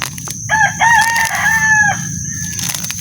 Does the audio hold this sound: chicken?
yes